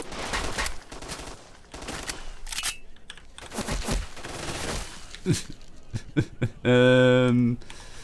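Gunfire in S.T.A.L.K.E.R. Shadow of Chernobyl with the OGSE mod, an irregular run of sharp shots and short bursts, loud and close, mixed with voices and a brief tonal in-game sound near the end.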